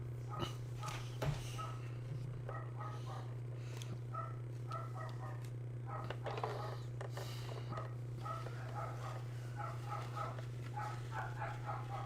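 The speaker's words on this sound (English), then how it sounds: "Go see who he's barking at." A dog barks in short bursts scattered through the clip, with people talking throughout over a steady low electrical hum.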